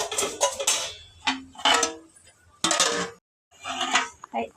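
A lid set onto a pot of egg biryani with rice cooking in it, giving a few sharp metallic clinks and clatters in short bursts, close and moderately loud, separated by brief pauses.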